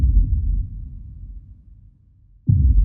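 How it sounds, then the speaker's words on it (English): A muffled heartbeat sound effect: dull, low thumping that fades over a couple of seconds, then returns with a heavy close throb, with no voices. "the heart beat on with a muffled sound"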